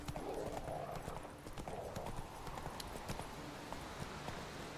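Roach, a horse in the video game Witcher 3, gallops in a rapid, steady clip-clop of hooves that continues throughout at moderate volume, with no voices.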